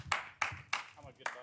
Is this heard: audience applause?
yes